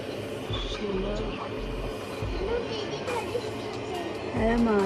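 A long-distance passenger train rumbles steadily along the tracks on the route to Goa, its low rolling drone running throughout beneath near, continuous conversation and the chatter of passengers and children in the carriage.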